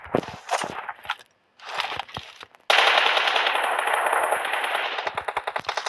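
Bursts of automatic gunfire from the mobile battle royale game PUBG Mobile, with short clipped volleys and then a long, steady, loud rattle of rapid shots that fades into a few separate shots.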